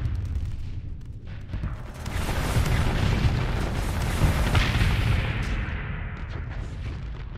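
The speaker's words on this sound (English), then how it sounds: "Look at all those missiles fire." A space battle in the game Starsector, with missiles firing amid a dense, continuous roar of launches and booming impacts that swells and holds before thinning toward the end; no speech.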